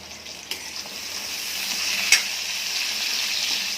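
Potatoes and drumstick pods sautéing in a pan, a steady bright sizzle that swells slightly, with a couple of sharp utensil taps, close and alone.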